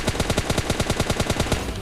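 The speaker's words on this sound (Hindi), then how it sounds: "ऊपर से भी फायर हो रही थी" Rapid automatic gunfire from PUBG Mobile Lite hammers out a steady, loud burst of about fifteen evenly spaced shots, close and continuous.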